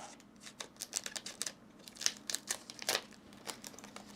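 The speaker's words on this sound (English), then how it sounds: "So I have this extra piece right here I could trim up." Scissors snipping off an extra piece of material during Cricut screen printing, a quick series of small close crisp cuts and rustles, with no talking.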